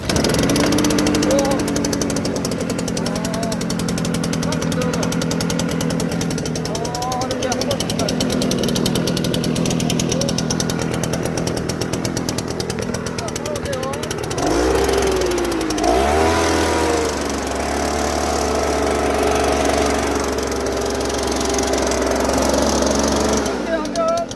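A farm weed-spraying machine is started up in a watermelon field and runs with a rough, rattling, clattering engine drone that shifts in pitch partway through, while people talk over it.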